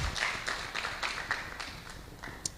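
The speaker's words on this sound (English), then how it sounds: "Another round of applause, please." Applause at a real estate engagement meeting in Sunbird Kuchawe, heard as faint, distant, steady rhythmic clapping from a small group, with no voices over it.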